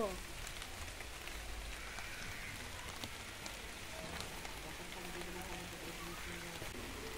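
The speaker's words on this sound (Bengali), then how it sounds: "শাক তুলতে তুলতে বৃষ্টি লেগে গেল।" Rain pattering steadily onto a vegetable field of leafy greens, a soft, even, fairly quiet drizzle of drops close around, heard alone without talk.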